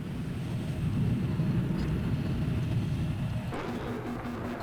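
A steady, low roaring drone of a jet aircraft in flight in Battlefield 3, climbing for altitude. The sound holds constant with a faint high whine, and a tonal shift comes near the end.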